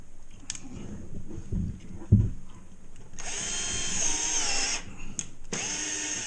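A power drill drives screws through bullnose corner bead into drywall around an attic scuttle hole. Two close, loud whirring bursts sound over a low background hum, with a short pause between them.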